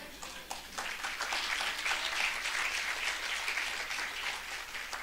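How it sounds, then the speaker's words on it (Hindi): Audience applause at a preaching event, a steady wash of many hands clapping for several seconds, moderately loud with no pause. "देखो तालियां बज रही हैं"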